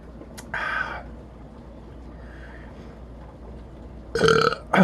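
Two loud, close burps, one early and a longer, stronger one near the end, with quiet room noise between.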